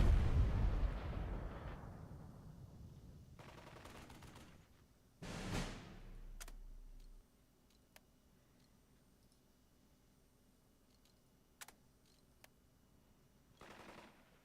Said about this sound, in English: call in artillery fire on these boys down here